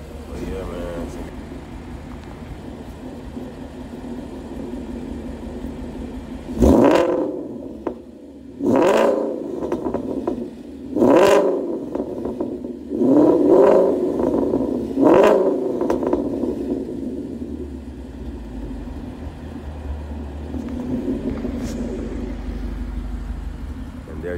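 A 2013 Ford Mustang GT V8 with ceramic-coated JBA long tube headers and an off-road JBA X pipe revs sharply five times in a row, each burst rising loud and close before dropping back to a rumbling idle.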